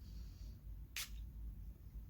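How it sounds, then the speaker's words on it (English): One short, crisp spritz of perfume from a bottle of Middle Eastern oud-style fragrance, a quick bright hiss lasting a fraction of a second over a low, steady room hum. "let me spray it for you guys"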